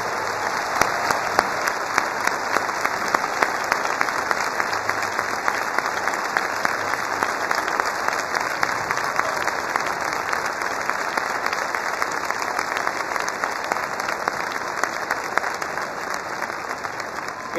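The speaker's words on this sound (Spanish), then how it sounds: "vertiendo un gran aplauso para ese apóstol de la música presente aquí" Sustained audience applause for a musician at a live event, dense and steady clapping from a crowd that continues loudly for the whole stretch without any talk.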